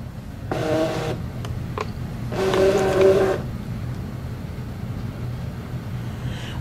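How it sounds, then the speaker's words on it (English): A cutting machine loads its mat with two short motorized whirs, the second longer, against a low steady room hum. "I'm going to press this middle button right here on the side menu, and that is to load the mat."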